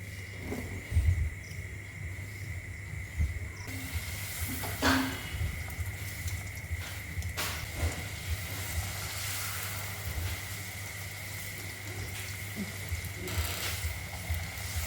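Puchka puffing as they fry in a shallow layer of hot oil, giving a steady soft hiss and sizzle with faint crackles and a low hum underneath, continuous throughout.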